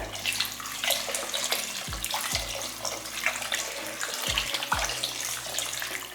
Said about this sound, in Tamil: இந்த மிக்சி ஜாரில் தண்ணி இருக்கு இல்லையா இந்த தண்ணியும் இதில் ஊற்றிக்கலாம்